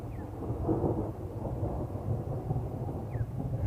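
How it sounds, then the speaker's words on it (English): Thunder rolling a few seconds after a lightning bolt during an evening safari drive: a low, continuous rumble that swells and lingers, with light rain in the background and a faint bird chirp. "here you can hear the thunder rolling in a few seconds afterwards"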